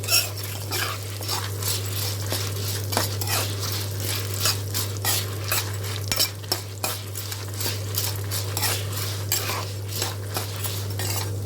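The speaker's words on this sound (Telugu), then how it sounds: "మిరపకాయలు కూడా వేసేసి 2 నిమిషాలు వేయించుకోవాలి" Chillies fry in oil in a pan with a steady close sizzle, punctuated by repeated scrapes and clinks of a spoon stirring against the metal, over a constant low hum and without any talking.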